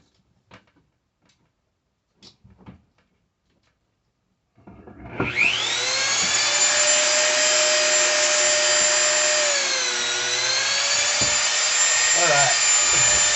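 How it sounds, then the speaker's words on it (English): A Dremel rotary tool cuts a guitar pickguard for P90 pickups on a kit guitar build. After a few faint handling knocks, it spins up to a loud, steady high-pitched whine whose pitch dips briefly under load and then continues. "let's go ahead and grab that Dremel"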